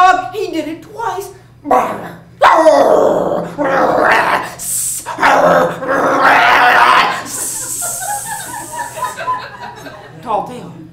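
A storyteller's voice imitates a dog growling and barking, with rough snarls and short bark-like bursts mixed with chuckling and spoken narration.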